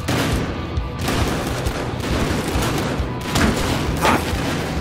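Gunfire rattles through the Battlefield Hardline video game, a dense, loud barrage of shots and booms with a few heavier blasts near the end.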